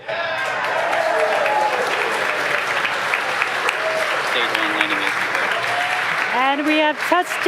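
A crowd cheers and applauds continuously at the touchdown of a SpaceX Falcon 9 first-stage booster on a drone ship during a Starlink launch, loud and sustained, with voices and whoops rising near the end.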